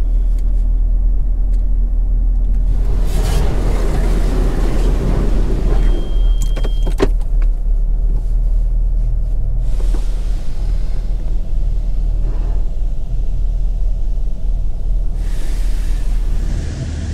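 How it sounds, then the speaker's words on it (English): A touchless car wash runs over a ceramic-coated car, a loud continuous roar of high-pressure water spray that drums and hisses against the body throughout, with brief metallic clinks partway through and no voices. "we're gonna head up to the touchless car wash now, run this thing through it"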